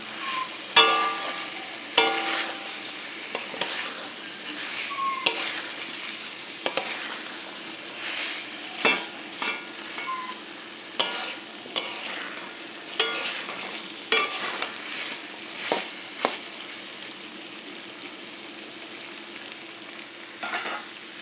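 A curry sizzles steadily in a pan while a spatula scrapes and stirs it in a regular rhythm of sharp knocks, close and fairly loud, with no talking.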